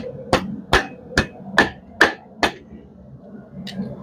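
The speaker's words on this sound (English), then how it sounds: "Hammer it out." A hammer strikes a steel hook worked over an anvil horn, six sharp ringing blows at a steady rhythm, then a pause and a softer seventh strike.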